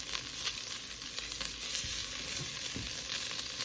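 Tomato paste cooks in a pan with a soft, steady sizzle and faint crackle, quiet and continuous throughout with occasional stirring scrapes.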